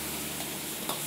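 Vegetables and pre-fried lobster stir-frying in a pan over high flame, a steady dense sizzle filling the moment without pause, close and continuous.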